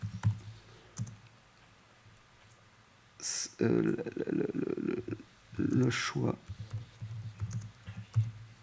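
Keys tapped and clicked on a non-French computer keyboard in short bursts of quick, close, soft strikes, with quiet gaps between bursts, while someone speaks over parts of the typing.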